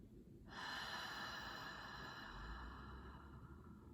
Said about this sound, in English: Two more breaths just like that.